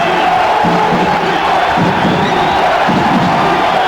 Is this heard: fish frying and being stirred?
no